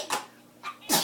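A few quick, breathy sneezes in a quiet room, three short bursts spaced across about a second.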